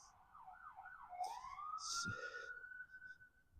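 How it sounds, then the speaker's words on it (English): An ambulance siren wails and rises in pitch, sounding moderately distant over low city traffic rumble in Milwaukee, with a brief muffled voice in the background. "you can hear an ambulance coming"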